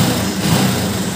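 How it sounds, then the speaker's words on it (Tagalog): A Honda TMX 125 motorcycle engine runs in a short, steady, close buzzing idle, loud and even from start to finish. "buhay na yung motor."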